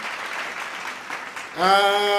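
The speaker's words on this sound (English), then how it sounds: "one more round of applause for Terry McIncredible." Applause during an NFL divisional-round playoff watch-along of the Washington Commanders at the Detroit Lions, a steady patter of clapping that gives way to a loud tonal sound near the end.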